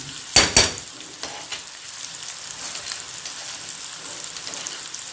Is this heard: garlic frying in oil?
yes